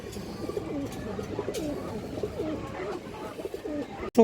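A female Sapchila pigeon coos in a repeated, soft rolling rhythm close by, a series of throaty calls against faint background murmur, ending with a sudden sharp knock.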